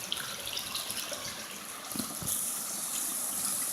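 A small waterfall gives a steady, moderately faint rush of falling water, even and unbroken throughout, with no voices.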